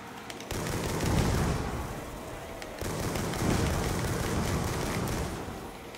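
Rapid gunfire from a weapon in a zombies video game, dense sustained bursts of shots in two long volleys separated by a brief lull, loud and close with no talking.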